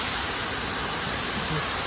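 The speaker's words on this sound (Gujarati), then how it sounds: "આટલો બધો વરસાદ પડ્યો જોવો તો ઝરણું ચાલુ થઈ ગયું ભાઈ" Muddy rainwater rushes down a mountain path after heavy rain, a steady, loud, broadband roar of flowing water filling the whole moment without pause.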